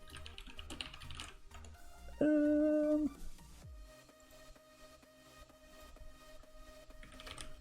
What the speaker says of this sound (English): Typing into the keyboard.